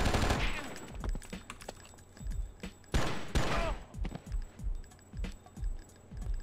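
Rapid bursts of gunfire ring out in the PC game Oni, close and loud at first, then repeating in spaced volleys with clinking between them.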